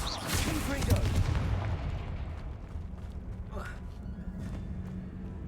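In the Hogwarts Legacy video game, a Confringo spell blast booms out as a loud, rumbling burst that slowly fades into a low ambient drone, with voices faintly present.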